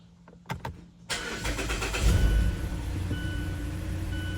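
A 2014 Mazda CX-5 engine cranks after a few clicks and knocks, catches quickly, and settles into a steady close-up idle hum.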